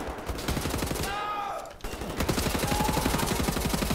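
Rapid automatic gunfire in the shooter Wolfenstein: The New Order: dense, steady bursts of shots close by, broken once by a brief pause, then firing again, with no talk.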